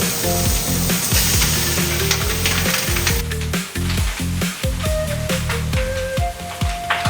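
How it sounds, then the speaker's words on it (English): Pork slices with skin, fat and lean meat sizzle loudly in a very hot wok for Sichuan twice-cooked pork, a steady frying crackle heard close up over prominent background music. "The fat begins rendering immediately. You hear the sizzling intensify as moisture evaporates."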